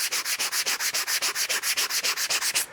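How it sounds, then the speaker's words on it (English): Steady back-and-forth rasping of hand sanding on an epoxy board, close and loud, about eight even strokes per second, then it stops. "a little bit of sanding after the laser really fixed it on this epoxy board"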